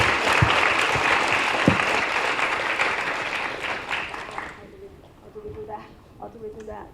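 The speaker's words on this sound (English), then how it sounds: "let's give Professor Newman another round of applause" A lecture audience applauds Professor Newman, sustained clapping for about four and a half seconds that then stops abruptly, followed by a speaker talking.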